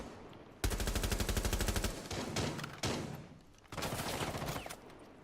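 Rapid automatic gunfire rattles in Rainbow Six Siege during a competitive Pro League final as rounds hit a character. Loud sustained bursts are broken by brief pauses and a few sharper single shots.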